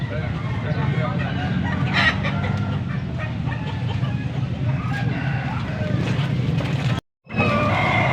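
A gamefowl stag crows at a busy tiangge fowl market in Pampanga. The crow is short and sits under constant crowd noise, clucking and passing traffic.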